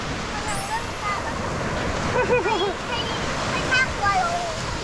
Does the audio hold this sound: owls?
no